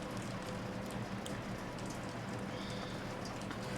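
Steady rain ambience in the video game Shadows Over Loathing, a continuous even hiss of falling rain with soft patter and no breaks, heard alone.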